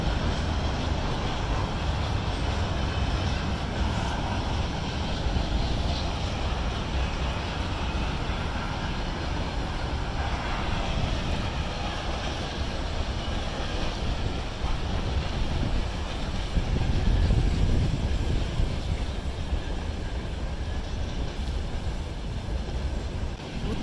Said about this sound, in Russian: Поезда.